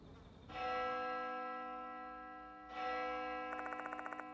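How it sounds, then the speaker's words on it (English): A bell in a horror video game strikes twice, each ring a rich sustained tone with long decaying overtones, followed by a rapid metallic ticking shimmer near the end. "The bell is ringing."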